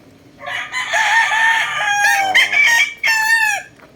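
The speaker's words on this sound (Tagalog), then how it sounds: "Ganda ng manukan dito." Roosters crow in long drawn-out calls at a chicken farm, one crow after another filling most of the stretch, loud and close, with chickens clucking faintly beneath.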